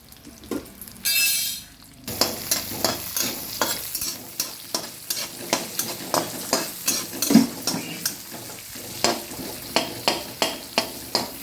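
Onion and garlic frying in two spoons of oil for a green masala fish dish, a steady close sizzle under repeated rhythmic scrapes of a spoon stirring the pan, with no talk.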